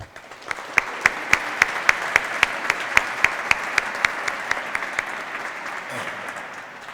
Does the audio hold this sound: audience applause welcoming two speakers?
yes